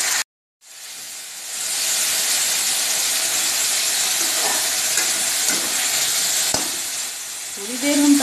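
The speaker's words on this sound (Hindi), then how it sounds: "अब हम इसमें कटे हुए टमाटर डालेंगे" Chopped tomatoes go into a pan of browned onions: after a short silence a loud, broad sizzle bursts up and holds steadily, and a brief voice comes in near the end.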